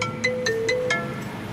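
A phone ringtone plays a short tonal melody of repeated beeps and a sustained note, heard clearly at a drive-thru with no talk over it.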